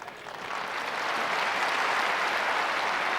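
A tennis crowd at the 1988 Australian Open final between Pat Cash and Mats Wilander breaks into loud, sustained applause that swells and holds steady throughout.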